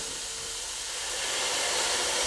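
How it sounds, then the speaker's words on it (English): Steady broadband hiss of steam building in a covered pot of carrots with a little water on a stove turned up high, continuous and slowly growing louder, with no talking. "Turn up my stove high and build up the steam in the pot."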